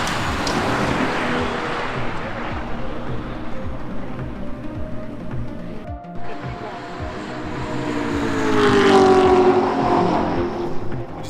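Touring race cars run qualifying hot laps in a 2021 USTCC round, with a steady engine drone from the distance and a high, rising engine whine swelling near the end as a car passes close.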